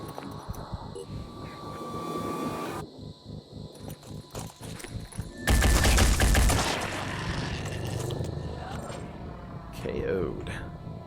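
Gunfire from the turn-based strategy game Phoenix Point, with rapid bursts of shots and a dense loud barrage midway, mixed with game effects and players talking over it.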